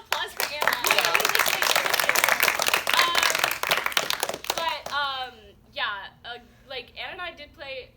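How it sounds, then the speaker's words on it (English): A crowd claps in a round of applause for a contestant at a student Survivor finale, dense and loud for about five seconds, then fading as speech takes over. "Round of applause for Anna."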